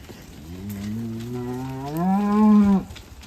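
A single cow on a farm lets out one long, close, drawn-out moo that swells louder toward its end and then cuts off.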